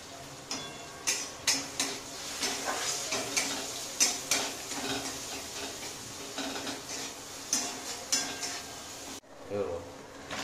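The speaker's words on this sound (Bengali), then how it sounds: "দেখো আমার টমেটো পেঁয়াজ ভালো মতো ভাজা হয়ে গেছে" Tomato and onion frying in a pan with salt, a steady sizzle broken by repeated scraping and clinking of a spoon stirring against the metal pan, fairly close, with a brief quieter pause near the end.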